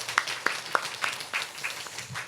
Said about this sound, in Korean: 우리 성가대 위해서 우리 박수 한번 합시다